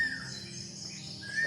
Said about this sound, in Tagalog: parang nakikita tayo nito ibon na to